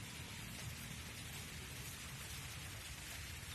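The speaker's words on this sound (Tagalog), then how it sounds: "Grabe ang ulan talaga guys" Heavy rain pours down in a steady, unbroken hiss with a low rumbling undertone, fairly faint and even throughout.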